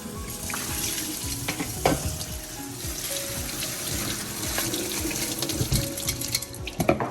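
Steady running water from a tap with splashing and clinking in a sink while making cucumber kimchi, continuous throughout with occasional sharper knocks, fairly close.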